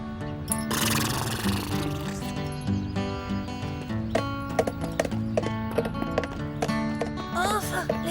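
Horse hooves clip-clop steadily throughout, closely mixed with a bed of music and voices.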